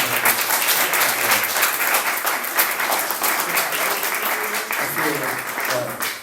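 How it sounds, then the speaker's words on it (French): A church congregation applauding two people, Sonia and Justin, a loud, steady wash of many hands clapping, with voices mixed in beneath the clapping. "On peut applaudir Sonia et Justin aussi."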